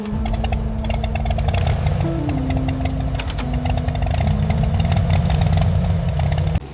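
A 1990s Harley-Davidson motorcycle engine roars loud and close with a deep, uneven idle that rises and settles in pitch as the throttle shifts, running continuously before cutting off abruptly at the end.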